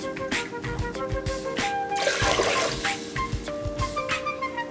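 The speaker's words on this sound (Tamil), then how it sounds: "அரிசியில் இருக்கிற தண்ணி தான் வடித்து ஊற்றிட்டுருக்கேன்." Water drained off washed rice being poured out in a home kitchen while cooking rice and dal, a steady close splashing pour with a brief louder gush midway, no talk.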